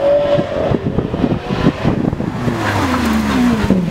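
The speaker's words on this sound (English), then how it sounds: "Lamborghini Aventador Roadster, here it is, 700 and a bit horsepower." A Lamborghini Aventador Roadster with over 700 horsepower drives off close by, its loud engine rising and falling through gear changes, then a long climbing whine as it pulls away.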